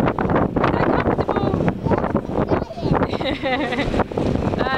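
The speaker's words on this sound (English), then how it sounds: "it's very windy today" Strong outdoor wind buffets the microphone in loud, gusty rumbles, with people talking and laughing throughout.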